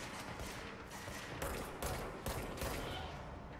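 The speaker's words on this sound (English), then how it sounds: "who is shooting at me?" Gunfire in the video game Control, faint bursts of rapid shots sounding at a distance with a few sharper reports standing out over steady background noise.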